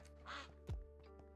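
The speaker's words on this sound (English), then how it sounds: "Why is there a random fucking duck in here?" A duck in the Minecraft ATM 9 modpack gives a short nasal quack, followed by a few faint game clicks over a steady low hum.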